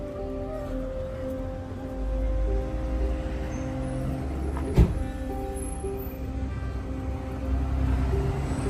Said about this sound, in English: Another bus.